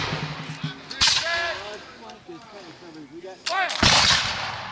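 Musket volleys ring out during a battle reenactment at Fort Ticonderoga, New York: two sharp, loud gunfire cracks about three seconds apart, with shouted voices and commotion between them.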